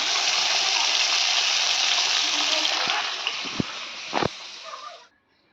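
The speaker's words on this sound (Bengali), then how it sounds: "মাছ ভাজা বসিয়ে দিয়েছি" Small pabda fish frying in a pan give a steady, loud sizzle for about five seconds, with a few sharp pops and spatters near the end before the sound cuts off.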